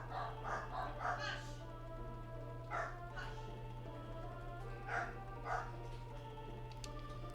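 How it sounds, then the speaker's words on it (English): A dog barks in the video game Final Fantasy X, sounding as a run of short repeated barks in uneven bursts over a steady low hum, fairly quiet and a little distant. "Really don't like it when dogs that aren't me bark"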